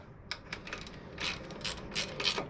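A hand ratchet with a 10mm 12-point socket runs in fork bolts on a Harley-Davidson Sportster, giving quick, soft clicking bursts in short irregular strokes, close and alone.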